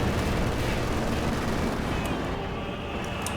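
Battle noise from Company of Heroes 2, with a Firefly tank shelling a Panther tank amid anti-tank gun fire: a dense, continuous roar of gunfire and blasts that holds loud for the whole stretch.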